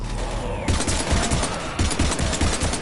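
Sustained automatic gunfire in the video game Mass Effect, fired at husks: dense, loud, continuous bursts of rapid shots that fill the whole stretch with hardly a break, heard close and with no voices over it.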